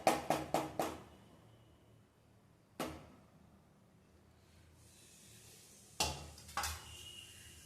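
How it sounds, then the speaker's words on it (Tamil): Amaranth spinach cooked with dal and onion is mashed in a pot: a quick burst of four sharp knocks, then lone clacks and scraping against the pot amid quiet pauses. "பருப்பு சேர்த்து தாளிச்சு வெங்காயமும் சேர்த்து கீரையோட நல்லா கடைஞ்சி விட்டலாம்"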